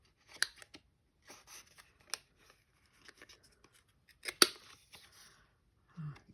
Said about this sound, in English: Why don't I trim the corners while I'm at it?